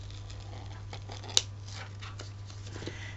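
Scissors cut out a paper die-cut piece for scrapbooking, with one crisp snip standing out against a quiet room hum and a few faint paper rustles.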